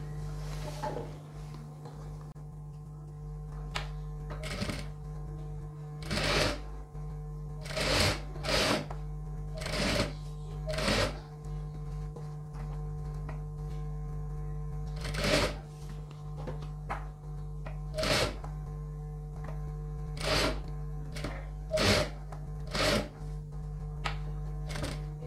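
A sewing machine stitches a chudidhar top in short intermittent bursts over a constant low electrical hum, with quiet gaps between runs.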